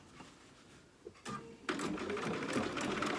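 A sewing machine bastes fabric in place on a dog outfit, starting with a few short stitching bursts and then running steadily in a close, rapid mechanical chatter.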